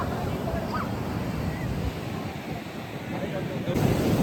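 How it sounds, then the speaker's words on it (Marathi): Waves and wind at Candolim beach in Goa: a continuous rushing roar of surf mixed with buffeting wind on the microphone, steady and fairly loud throughout, swelling slightly near the end. "कॅन्डलम बीचवर आता आलो आहे आम्ही"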